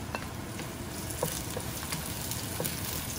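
Garlic frying in a home-cooking pan with very little oil, a steady soft sizzle with faint scattered crackles and light stirring taps, no voices.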